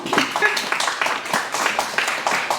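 An audience applauds after a literary presentation of a novel by Fadel Ndao, a dense, steady patter of many hands clapping at moderate loudness and sustained throughout.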